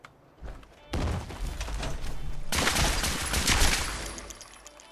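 Gunfire in the Fallout 4 video game: a dense, rapid burst of loud shots breaks out after a quiet start, then a second heavier volley with crashing impacts continues to the end.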